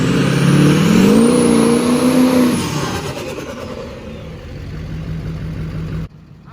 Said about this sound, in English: put it in 4-wheel drive and give it a little boost launch